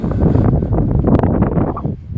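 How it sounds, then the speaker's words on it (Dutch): Steady warm wind buffeting the microphone outdoors in Mittersill, a loud low rumble that continues throughout with no voices. "Het is lekker warme wind buiten."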